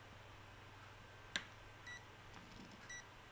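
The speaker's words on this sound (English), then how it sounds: "we have a beep" An Olight HS2 headlamp, switched to mixed mode in near-freezing cold, gives a short electronic beep, then a couple of fainter chirps, quiet against low background hum.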